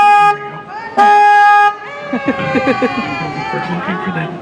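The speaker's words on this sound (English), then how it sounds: "Now, just in case there's any cross traffic here, I have to honk the horn." A river tour boat's horn gives two loud, sustained blasts close by, then a guide talks over the boat's steady hum.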